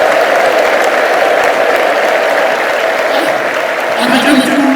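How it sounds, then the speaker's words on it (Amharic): A church congregation at a prophetic worship service breaks into loud, sustained clapping and ululation, a dense crowd roar filling the space up close without pause. "አጨብጭቡና እልል በሉለት ለጌታ"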